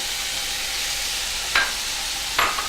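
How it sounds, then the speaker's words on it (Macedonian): Chopped carrot and celery dropped into a hot pan for lentil stew: a continuous soft sizzle with two brief louder hisses as the vegetables are stirred, no voices. "И се убаво ќе подпржиме."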